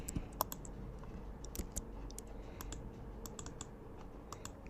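Computer keyboard keys tapped for copy and paste shortcuts while working on a dashboard design in Figma, a scattered run of light, close, quiet clicks over faint background hiss.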